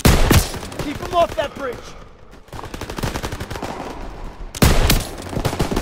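Call of Duty WWII battle gunfire, repeated bursts of shots with dense loud crackle at the start and end, mixed with shouted commands and other voices throughout.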